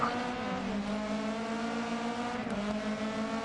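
Several rally cars race in Dirt Rally 2.0 at the Barcelona rallycross circuit, their engines droning loudly and steadily with overlapping harmonic tones. A brief dip and shift comes near the middle, and the engines keep going throughout with no talk.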